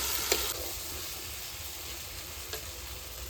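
Chicken pieces fry in oil in a pan while cooking chicken khichuri: a soft, steady sizzle continues throughout, broken by two faint clinks or stirring taps, with no speech.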